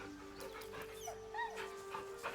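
The camp dog in the video game Baldur's Gate 3 gives soft whimpers, yips and short panting sounds while being petted, layered over a steady game music bed, with no talking.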